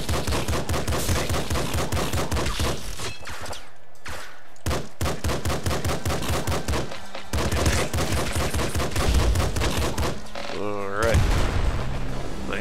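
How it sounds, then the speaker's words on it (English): Rapid gunfire from pistol, machine gun and shotgun in the top-down shooter game Nuclear Throne, dense bursts of sharp shots with brief pauses, loud and continuous, with game sound effects mixed in. "The sound difference and, like, the recoil on the person between the pistol and the machine gun is very fun."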